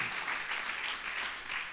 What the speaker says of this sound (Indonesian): Berikan tepuk tangan, haleluya.